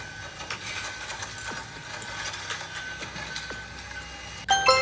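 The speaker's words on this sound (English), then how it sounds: "Trencher. Digs long, narrow holes in the ground." Animated trencher effect for a construction vehicle digging long, narrow trenches for pipes or wires: a steady mechanical ratcheting and clanking with gear-like clicks, ending in a louder burst of clatter.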